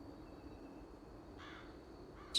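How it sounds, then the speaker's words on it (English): Inside the Lords of the Fallen video game, a crow caws a couple of times against a quiet ambient backdrop, one short call followed by a slightly louder one at the end. "I love that you have birds here in the game"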